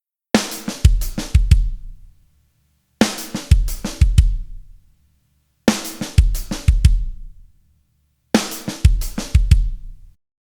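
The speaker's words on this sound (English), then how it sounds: "The only other exception is 2 kick drums in a row on the and" Short drum groove phrase played four times with pauses between, each pass ending on two quick kick drum hits in a row on the and of four; close, punchy kit with snare and hi-hat, no talking.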